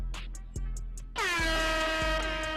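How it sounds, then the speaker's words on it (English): A loud blaring air horn sounds for over a second, preceded by a few short tones, with no talking. "which is always a bold enough horn with Graham"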